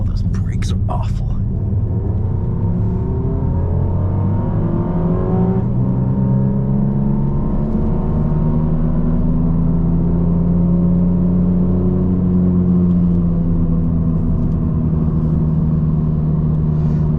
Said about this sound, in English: It's probably the loudest wheel bearing I've heard in a long time.